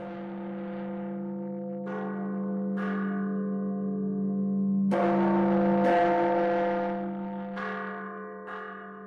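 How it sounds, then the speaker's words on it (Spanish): Church bells ring out in colonial Mexico, several resonant strikes spaced a second or two apart, each ringing on and echoing over a sustained hum, moderately loud and alone. "Por un instante, suena el eco de las campanas."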